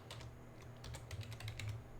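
Quiet, rapid clicking of keys on a computer keyboard, short bursts of typing at close range with a low hum underneath.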